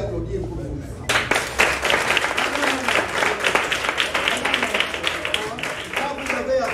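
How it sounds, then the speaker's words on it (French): Pupils at a school exam launch ceremony break into applause for themselves after a brief quieter moment. The clapping stays loud and dense, with crowd murmur mixed in, until the end. "Alors vous allez applaudir pour vous."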